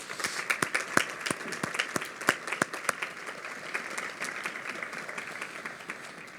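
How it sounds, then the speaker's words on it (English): An audience at a spring 2021 medical school graduation ceremony applauds steadily, with many hands clapping in a continuous wash and a few sharp, close claps standing out early on. "Please join me in a round of applause for them."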